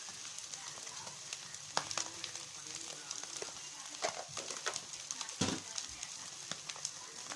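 Vegetables frying in a pan with chili powder just stirred in, a soft steady sizzle at moderate distance broken by occasional louder clinks and scrapes of stirring.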